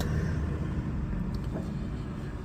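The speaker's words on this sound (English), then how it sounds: "bloody cars, go away." Cars passing on a road beside someone working on a VW T5 1.9 TDI, a steady low rumble of traffic that swells slightly and then eases off.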